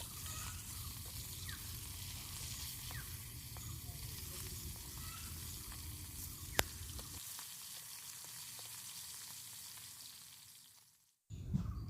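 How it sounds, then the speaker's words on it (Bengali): Hilsa pieces fry in hot oil with a continuous close sizzle and crackle, a sharp click midway, and the sizzling thins and fades before a short clatter at the end. "মাছগুলো কিন্তু ভালো করে দেখো উল্টে পাল্টে দুই দিকেই হালকা লাল লাল করে ভেজে নেব।"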